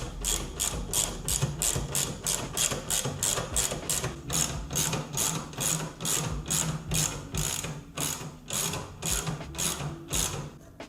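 A ratchet clicks rapidly in repeated bursts while tightening a fastener on an Indian Challenger motorcycle fork during a fork seal change, close and loud with a steady mechanical rhythm.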